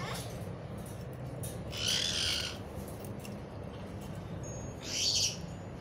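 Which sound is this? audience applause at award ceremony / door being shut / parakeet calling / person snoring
parakeet calling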